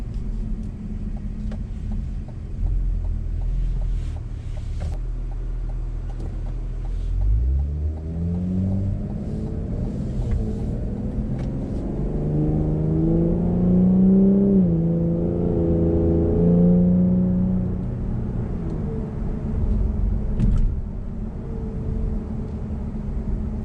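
Cadillac CT5-V with a twin-turbo V6 accelerating on a road, a steady engine rumble rising in pitch and volume through the middle, then easing off near the end, with no talking.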